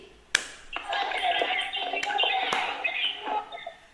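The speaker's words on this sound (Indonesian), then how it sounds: "coba tepuk konsentrasi." Primary school pupils perform a rhythmic concentration clap on a teacher's cue: a sharp lead clap, then a burst of patterned group clapping mixed with chanting voices, with a few loud accented claps near the end.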